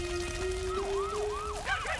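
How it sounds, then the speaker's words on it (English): Emergency sirens wail in repeated rising and falling sweeps during a fire at a busy scene, a steady tone underneath giving way to several overlapping siren calls, moderately loud over a dull background. "The sirens began to wail."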